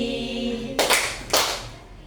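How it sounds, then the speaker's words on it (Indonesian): Schoolchildren in an Indonesian classroom clap twice in place of a word during a song, two close bursts of claps after a moment of quiet. "kata saya diganti dengan tepuk 2 kali"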